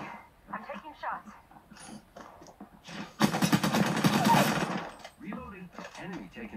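Gunfire in a shooter video game fires in a dense, loud burst in the middle of the clip, set between stretches of talk and softer game sounds.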